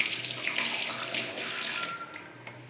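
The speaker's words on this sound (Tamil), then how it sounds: "சிங்க்கு, இது தண்ணி வரும்." A kitchen sink tap runs steadily, water splashing into the basin with a continuous close hiss and no voices.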